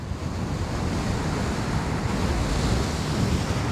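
Strong headwind roars against the microphone while riding a KingSong 18L electric unicycle outdoors, a loud, steady rushing buffet that covers everything else.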